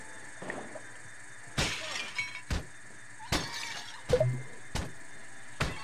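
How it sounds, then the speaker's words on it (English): Pots shatter one after another inside Payday 2, each break a sharp crash with a crackle of debris, spread irregularly over a low steady background. "Am I actually making money smashing these pots?"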